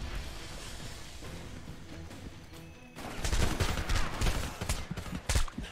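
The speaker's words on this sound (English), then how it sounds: "there's like five people already firing" Gunfire erupts in the PC game Homefront after a quieter stretch, a dense volley of shots from several shooters that turns loud and continuous toward the end.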